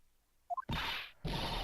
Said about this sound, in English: She burped.